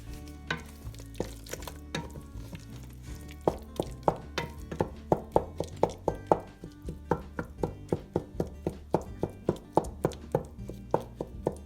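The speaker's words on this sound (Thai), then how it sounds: "ไอใช้ไม้พายนะคะ ช่วยบดแล้วก็จิ้มเอาแอปเปิลที่เขา กำลังนิ่มๆอยู่เนี่ยค่ะ" A spatula mashes and pokes softened apples in a pot while homemade applesauce cooks, giving a rhythmic run of soft thunks and wet taps, close and steady, with no talking.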